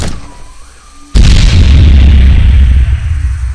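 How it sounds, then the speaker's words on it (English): A bridge blown apart by det cord and charges: after a quiet moment, one sudden, massive, very loud blast erupts, followed by a sustained roaring rumble of debris. "we'll be ready to blow the bridge"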